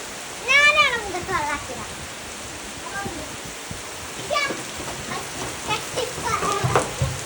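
Rain falls in a steady wash at a house in Malappuram while children's voices chatter and squeal over it nearby.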